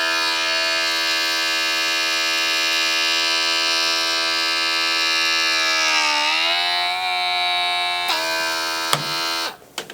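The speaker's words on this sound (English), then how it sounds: "Moisten the needle, insert it, and deflate." A rechargeable air pump deflates a ball through a needle with a loud, steady electric whine that wavers in pitch midway, then several clicks and a stop at the end.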